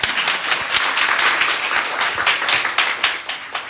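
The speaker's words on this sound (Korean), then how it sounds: "네, 박수 한번 쳐줍니다." An audience at a church revival meeting claps together, a dense, steady patter of many hands with a few sharper individual claps standing out.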